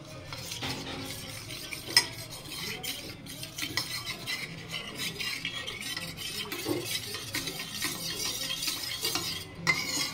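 A spoon stirs a cornflour and water mixture briskly in a bowl, with repeated scraping and light clinks against the sides, steady and close with no talking.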